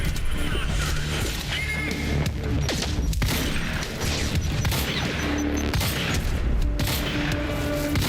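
Dense, continuous bursts of gunfire from the Quantum Break video game fill the clip, loud and chaotic, with crashes and clatter layered throughout.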